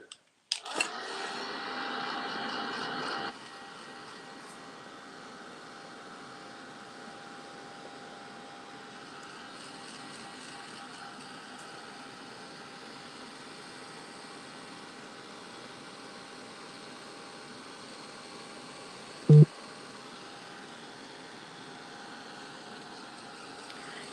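A heat tool drying a craft project runs as a steady, loud, even whir for most of the stretch, with a sharp click near the end.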